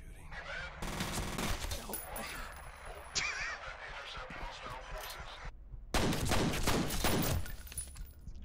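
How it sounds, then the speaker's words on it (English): Rapid video game gunfire bursts in a spooky-themed game, loud volleys crackling in two dense stretches with a quieter gap between, and a voice talking along the way. "They just started shooting."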